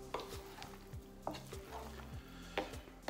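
Broccoli and pesto pasta warming on a stovetop, stirred in the pan with a soft sizzle and a few scraping utensil strokes that recur roughly every second at close range, with no talking.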